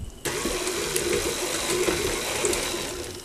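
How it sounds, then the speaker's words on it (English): A stand mixer running on very low through a cornstarch and water mix starts abruptly, then holds a steady broadband whir with faint churning and sloshing, close and unbroken, with no voices. "we're gonna put our stand mixer on and turn it on very low"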